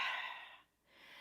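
Breath let out at the close of a Pilates and yoga workout pose, a single soft airy exhale lasting most of a second, followed by a brief pause and a faint second breath.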